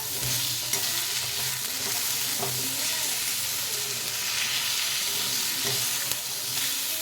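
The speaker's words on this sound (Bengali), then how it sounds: "এবার দিয়ে দেবো ওখানে আদা রসুন একসাথে বাটা, ওগুলোকে ভালো করে নাড়িয়ে নেব।" Ginger-garlic paste with fried onion and potato is stir-fried in a kadai with little oil, giving a loud, continuous close sizzle broken by repeated scraping strokes of a spatula, with no voices.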